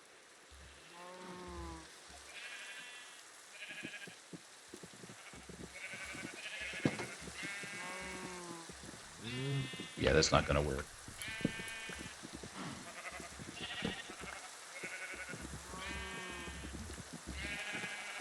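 Sheep in the Minecraft video game bleat over and over across a farm scene, set against steady rain on surfaces, while a player talks briefly.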